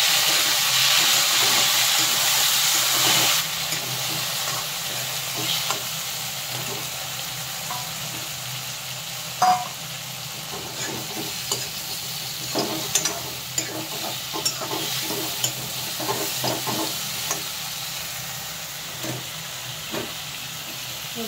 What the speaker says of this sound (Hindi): प्याज हरी मिर्च लहसुन फ्राई हो चुके हैं, मैं डाल दूंगी टमाटर कटे हुए।